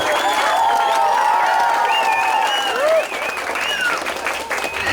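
A crowd applauds steadily and loudly at a festival in Vynnyky, with cheering and whoops rising over the clapping throughout.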